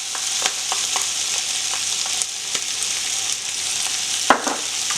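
Spices sizzle in hot oil alongside onions already fried golden, a steady bright crackle with occasional scraping stirs and light clicks of a spoon against the pan, close and continuous with no talking.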